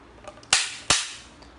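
A Darne shotgun from Saint-Étienne, France, is closed and dry-fired. Two sharp, close metallic snaps sound about 0.4 seconds apart, with a few faint clicks before and after. No one speaks.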